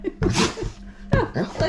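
A close, loud sneeze bursts out, followed moments later by a second sharp snort-like sneeze, with short breathy noises between them.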